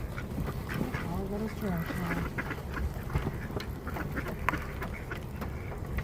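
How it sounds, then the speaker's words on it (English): Ducks in a city quack in short bursts over steady wind and outdoor rumble, with a person speaking nearby. "The city ducks."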